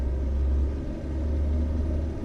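Low road rumble from a car on a wet road, loud and close, swelling and easing over a couple of seconds with no speech over it.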